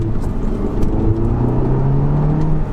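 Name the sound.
Audi TT engine with turbo blowing sound while driving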